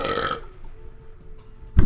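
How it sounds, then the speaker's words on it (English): A single loud burp from a Warcraft 3 player, bursting out abruptly at the very end after near silence. "I'm gonna burp real loud"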